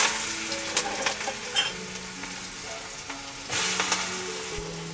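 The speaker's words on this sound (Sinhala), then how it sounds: "කරවල ටික තෙලට දාලා විනාඩි 2ක් විතර වෙනවා." Dried fish frying in hot oil gives a steady crackling sizzle, with brief louder bursts near the start and a sharper flare of spattering past the midpoint; no one speaks.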